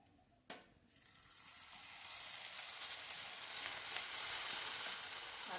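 Bitter gourd chips sizzling in hot oil, with a soft splash as a fresh batch drops in, then a steady, loud, dense frying hiss building and holding close up.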